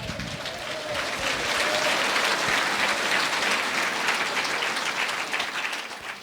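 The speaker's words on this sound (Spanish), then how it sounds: "Fuerte aplausos, Iglesia de Cristo." A church congregation in Sucre, Bolivia breaks into loud, steady applause that rises quickly, holds full and dense for several seconds and eases off slightly at the end.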